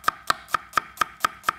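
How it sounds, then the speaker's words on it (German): A knife cuts a red onion into fine strips on a board, seven crisp, evenly spaced chops in a steady rhythm, close and clear with no talking. "schneide in der Zwischenzeit erstmal eine rote Zwiebel in feine Streifen"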